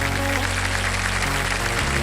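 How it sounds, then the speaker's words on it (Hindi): A TV game show studio audience greets arriving guests with loud, continuous applause, a dense steady roar of clapping over a low hum. "तो चलिए जोरदार तालियों के साथ स्वागत कीजिए"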